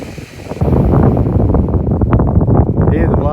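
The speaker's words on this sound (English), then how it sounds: "there's so much wind around" Strong coastal wind at the blowholes of Steep Point, Shark Bay, roars continuously and loudly into the microphone, buffeting and rumbling throughout the short stretch.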